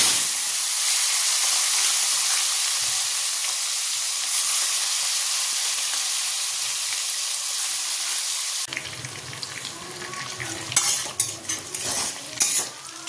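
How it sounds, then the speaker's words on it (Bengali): Shrimp sizzle loudly in hot oil with spices, a dense, steady frying hiss that gives way after a few seconds to quieter stirring and scraping of a spatula in the pan, before taro greens are cooked in the same oil. "দেখো চিংড়ি মাছগুলো কেমন লাল লাল করে ভাজা হয়ে গেছে"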